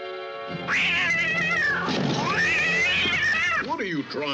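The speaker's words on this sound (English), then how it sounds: "that cat caught me off guard" A cat lets out a loud, wavering yowl near at hand, rising and falling over several seconds before ending in a few shorter cries, in an old 1956 haunted-house comedy scene.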